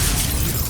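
A spell explosion from the video game Hogwarts Legacy, heard as a loud, dense burst of crackling blast noise filling the whole moment, with no pause or talk.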